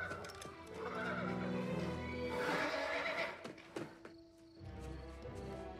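Horses whinny loudly with shrill, wavering neighs, while hooves clop faintly in the background.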